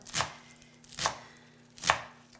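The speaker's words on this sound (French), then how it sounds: "Je vais venir hacher grossièrement mon kale" Three crisp knife strokes chop coarsely through kale leaves on a board, evenly spaced about a second apart, close and clear with no voices.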